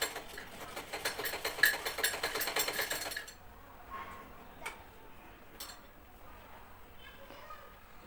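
A sewing machine stitching a loose seam on leggings, a fast, even mechanical ticking for about three seconds up close, then stopping, leaving a quiet room with a few faint knocks.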